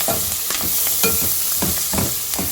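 Grated coconut sizzles in a hot pan while a spoon scrapes and stirs it, steady frying hiss with repeated soft scraping strokes, close and fairly loud, no voices.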